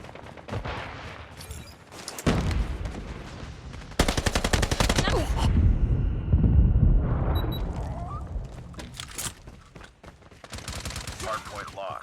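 Gunfire in a Call of Duty multiplayer hardpoint match, with a hostile sentry gun among the shooters: bursts of rapid automatic fire separated by pauses, loud and close, alongside other game sound effects.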